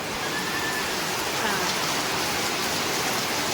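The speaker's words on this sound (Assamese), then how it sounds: "বাহিৰত ধুনীয়া বৰষুণ" Steady rain hisses down outside, an even, continuous wash of drops with no pauses.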